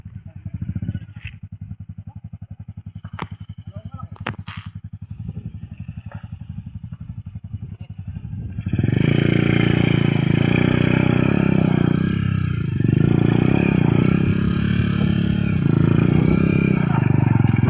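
A motorcycle stuck in soft sand chugs at low idle with clattering thumps, then its engine revs hard into a loud, sustained roar that holds for several seconds.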